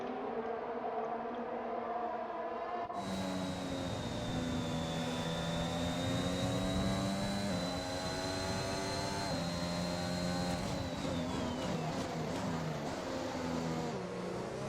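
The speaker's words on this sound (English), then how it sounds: "Some beautiful engine sounds from the Honda there in that camera." A high-revving Honda Formula 1 engine in the F1 2021 video game whines steadily with rising and falling pitch, continuous and fairly faint, with no talking.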